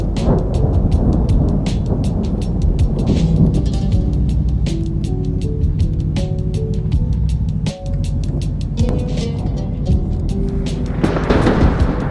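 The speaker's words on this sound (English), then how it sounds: "This is just a random stormy night in the middle of nowhere" A night thunderstorm in a remote spot, with steady heavy rain and rolling rumbles of thunder, loud and continuous and building to a louder crack near the end.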